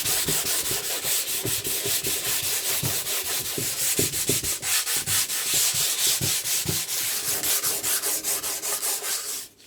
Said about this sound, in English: I'm just going to sand it off with some 320 and see how it comes up.